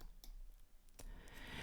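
A computer mouse clicks while working in Photoshop, a couple of faint, short clicks in a quiet room.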